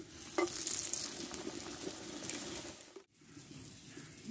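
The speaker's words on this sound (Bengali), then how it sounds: "দেখো পরপর একইভাবে পরোটাগুলো আমি ভেজে নেব।" Egg parathas fry in a hot pan with a steady, close sizzle that runs throughout, broken by a brief quiet dip near the end before the crackling resumes.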